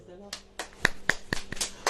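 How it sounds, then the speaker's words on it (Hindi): Scattered, uneven hand claps break out from a church congregation during a sermon. The claps are crisp and separate rather than a full roar, with a brief voice at the very start. "ताली बजाएं।"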